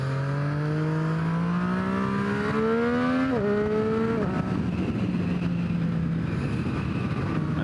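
Motorcycles, a 2018 Triumph Street Triple R and a KTM Duke 790, ride back roads. Loud, close engines rise steadily in pitch through the gears, then drop after a shift and settle into a steady drone under wind noise.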